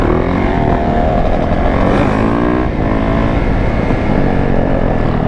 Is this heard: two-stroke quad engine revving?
yes